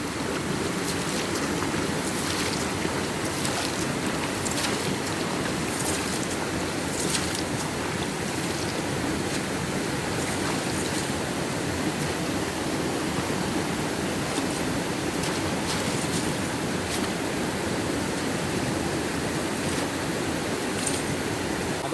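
A waterfall roars in a steady, dense rush of white water, loud and unbroken throughout with no voices, along a rocky stream in a rural setting.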